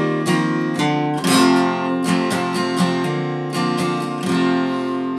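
A clean guitar intro plays with ringing notes and quick hammer-on ascents, a short repeating riff, close and clear.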